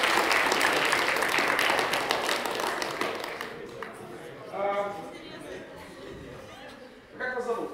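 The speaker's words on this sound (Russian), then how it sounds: "этот приз под ваши аплодисменты" Applause from a seminar audience on personal-finance legal literacy fills the first few seconds as a prize is handed over, fairly close and dense, then fades out while voices speak briefly.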